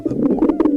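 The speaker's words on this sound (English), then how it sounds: "that's a dove" A dove coos in a short, soft run of throaty notes, close and clear, with no voices over it.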